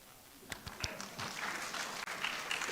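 A studio audience breaks into applause during a comedy sketch about reparations, a broad wash of clapping that swells and holds steady, with a few sharp hand claps standing out at first.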